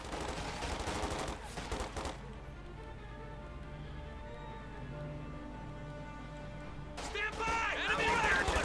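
Bursts of machine gun fire from the strategy game Company of Heroes 2, dense rattling volleys at the start and end with a quieter stretch between, while a commentator talks over them.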